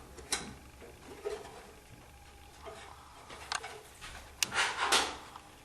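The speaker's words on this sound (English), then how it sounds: "To screw the nut on the machine, you have to press the rings down so you can screw the nut" A key turns a nut onto a Pringles vending tower, giving close, irregular metallic ratcheting clicks and scrapes in short bursts with quiet gaps between them.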